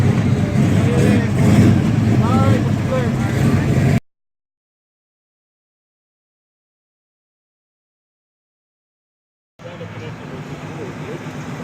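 Classic cars roll in to a May 2019 club cruise in Pottstown, engines rumbling close by with a brief rev before the sound cuts out, then resumes as a fainter idle and drive-by.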